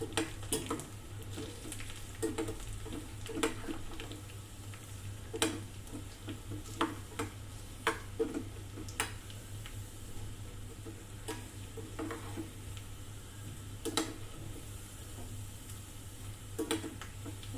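Sesame oil sizzles softly in a pan while making pesara pappu chow chow, with intermittent spoon scrapes and taps from stirring over a steady low hum, close and fairly quiet.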